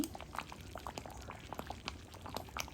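Mung dal with soybeans bubbling in a pot at a rolling boil, a steady mix of popping bubbles and soft liquid churning at close range with no voices.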